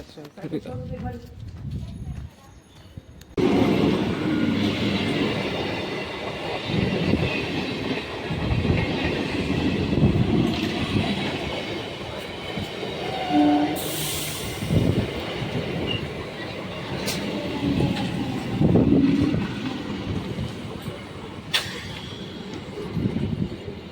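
A train passes along a railway track during an outing in Odisha, India, a steady rumbling and clattering roll of cars lasting throughout with occasional squeals, while people talk over it.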